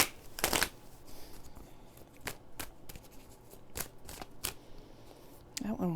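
Tarot cards being drawn and shuffled from a deck: a series of crisp, close card flicks and slides spaced irregularly, each standing out sharply against a quiet background.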